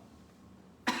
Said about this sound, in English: got a little bit of a cough right now.